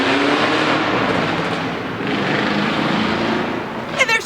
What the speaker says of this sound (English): And there's car noise too.